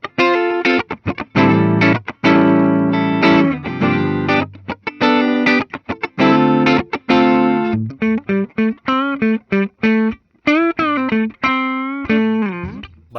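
Gibson Les Paul Modern Figured electric guitar from 2023 on its neck pickup, played through effects with a full, sustained tone: loud ringing chords at first, then bending single-note lines with vibrato, with no talk.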